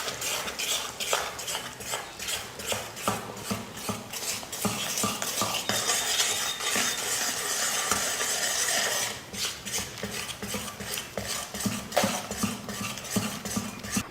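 A spoon or ladle scrapes and stirs rhythmically in a metal pan as gram flour mix is cooked into sugar syrup for Mysore pak, a steady run of clinks and scrapes with no talk.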